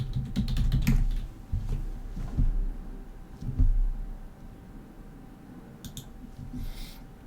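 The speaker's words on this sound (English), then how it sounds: "I'm going to put in password if I can type." A password being typed on a computer keyboard while setting up a Linux Mint virtual machine: close, quick bursts of key clicks in uneven runs, pausing midway and then resuming with a few more taps, no talking.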